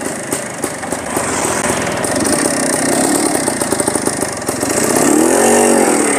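A motorcycle rides off in fifth gear, its light, buzzing engine steady and close, with a rising rev near the end.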